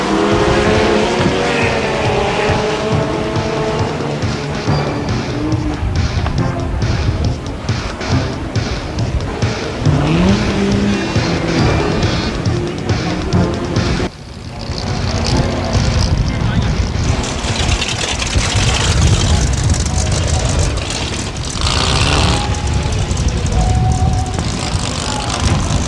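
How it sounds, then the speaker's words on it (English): BriSCA F2 stock cars roll out onto the circuit for the 1998 World Championship Final, loud engines revving and roaring continuously. A commentator talks over them, with a brief dip in the noise midway. "the cars make their way out onto the circuit for this year's World Championship"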